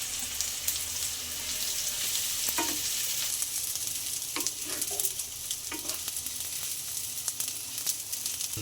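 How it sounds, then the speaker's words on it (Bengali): Gobindobhog rice grains frying in a pan for egg pilau, a steady hiss of sizzling with scattered scrapes and clicks of stirring, close and alone. "গোবিন্দভোগের চালের ভাজাটা"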